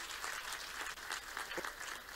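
Audience applauding at a live public event with Madhya Pradesh Chief Minister Shivraj Singh Chouhan, a steady wash of many hands clapping throughout at moderate distance, with no voices standing out.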